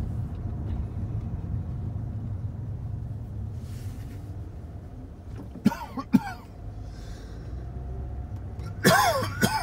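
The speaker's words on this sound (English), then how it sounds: "I think I'm catching a cough." Several sharp coughs from a man outdoors in Florida City, Florida: two close bursts, then a harsher fit a few seconds later, over a steady low rumble of passing road traffic.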